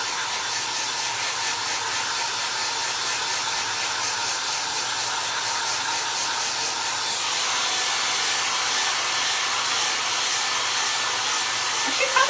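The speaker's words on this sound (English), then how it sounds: "Try the heat gun." Heat gun blowing hot air while crafting a clock from a Dollar Tree box, a steady, fairly close hiss and whir that runs without a break.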